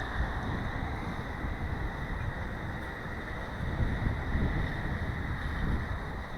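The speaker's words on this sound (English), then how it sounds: "I'm using the microphone on my earphones because it is quite windy" Steady wind buffets an earphone microphone outdoors in Newcastle, New South Wales, with a continuous low rumble and hiss, no voices, swelling slightly toward the end.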